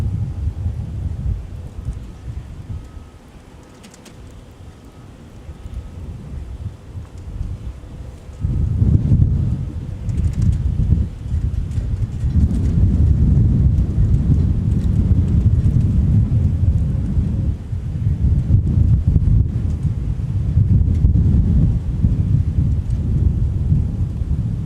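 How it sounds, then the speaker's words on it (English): Strong gusty wind buffets the microphone at Minneapolis–St. Paul Airport in a low roaring rumble, easing briefly before returning loud and sustained. "Things starting to get a little on the windy side again."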